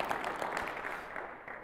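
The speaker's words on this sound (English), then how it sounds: "Give him a clap offering" A church congregation claps during a sermon service, a steady, fairly soft patter of many hands heard throughout with no pause.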